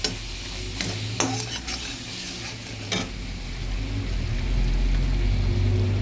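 Water and spices (cumin, coriander, dried chilli and turmeric powder) hit a hot pan and sizzle steadily while a utensil scrapes and stirs with a few sharp clinks, close and continuous without speech.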